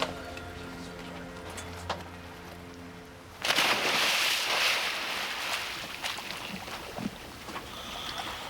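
Boat engines at a shark dive site surge to life after a quiet start, a loud broadband rumbling and churning roar with wind and water noise that holds steady to the end, no talking.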